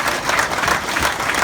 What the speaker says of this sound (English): Can we just give him a massive round of applause?